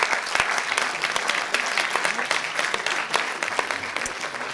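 A crowd applauds a doctoral student taking the stage at a thesis-in-180-seconds contest: continuous, full clapping from many hands stays steady and fairly loud for the whole stretch, with no speech.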